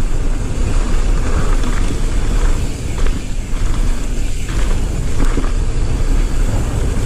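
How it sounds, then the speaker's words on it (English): Strong headwind at an outdoor bike park roars steadily across a microphone, a loud, continuous buffeting rumble with slight swells and no clear voices. "You come out here and the wind is real."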